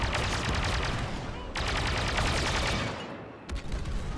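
Dense, continuous gunfire in a Star Wars Battlefront II battle on Jakku, sustained rapid blaster and machine-gun bursts loud and close, broken by brief gaps, with faint voices underneath.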